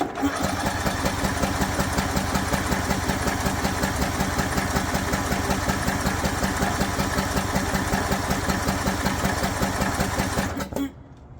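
A John Deere Z255 zero-turn mower with a blown engine, push rods failed, running loud and steady with a rapid, rattling chug for about ten seconds before it abruptly cuts out.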